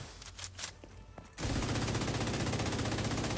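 Rapid, sustained automatic gunfire in a video game while an enemy is being killed, starting abruptly after a few quieter clicks and continuing as a loud, dense, unbroken stream.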